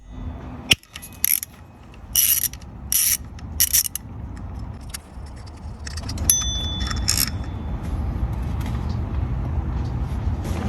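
Close ratchet clicking in several quick bursts as an Allen bit is turned counterclockwise on the belt tensioner of a Lexus GX460, followed by softer creaking and mechanical rubbing from the tensioner and belt.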